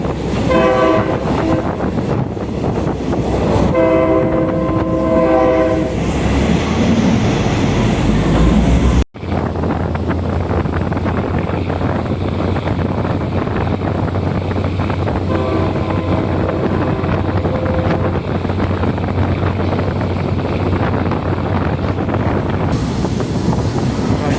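A passenger train out of Mahachai rumbles along with heavy, roaring wind buffeting the microphone throughout, and its horn sounds in repeated blasts near the start and again midway.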